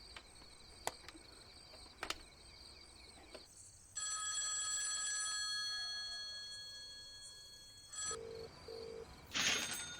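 A telephone rings after a number is dialed: a sustained electronic ring tone runs for several seconds, followed by short tone bursts, with faint clicks before it and little background noise.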